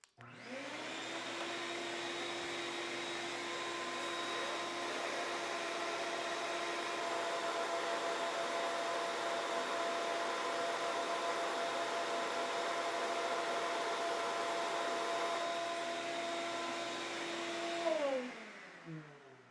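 A shop vacuum fitted with a brand new filter runs for a dust collection test, a loud steady close whine with a constant roaring hiss that holds for many seconds before the motor winds down near the end, with no talking.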